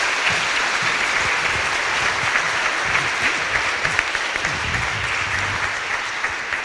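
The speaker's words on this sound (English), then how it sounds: "So I would like you to give a round of applause to these students." At a high school Celebration of Excellence, an audience gives a round of applause for engineering and robotics students: steady, full clapping from a large crowd, even in level and continuing throughout without talk.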